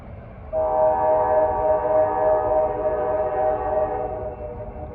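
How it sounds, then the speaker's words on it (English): A westbound train in Pennsylvania Dutch Country rumbles close by under a long, steady horn blast with a rich chord of tones that holds for several seconds. "Got a westbound approaching."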